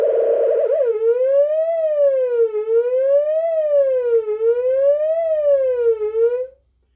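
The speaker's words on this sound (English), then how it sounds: "make it a bit like a siren, so that slides across." A loud synthesized tone from a Moog Satellite synthesizer slides smoothly up and down in a repeating wail like a siren, cycling several times before cutting off.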